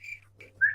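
A person whistles in short, clear, high bursts: two brief notes followed by a louder, longer one, close by and with no talking.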